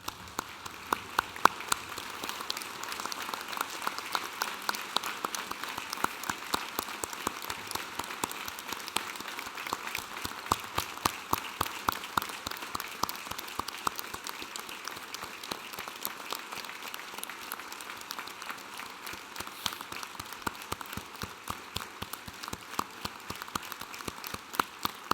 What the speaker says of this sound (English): for everyone else to stand and join me applauding the wonderful work of these graduates